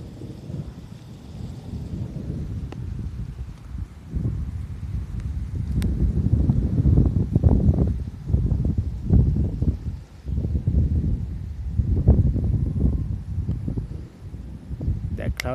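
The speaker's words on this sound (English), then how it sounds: "and thunderstorms are building" Gusting wind ahead of approaching thunderstorms in Miami buffets the microphone in uneven low surges, fairly loud, with a person talking over it.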